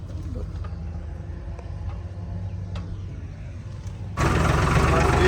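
A combine harvester runs in a wheat field on a hot day: a steady low engine rumble that swells suddenly louder and harsher near the end, as if closer or working harder.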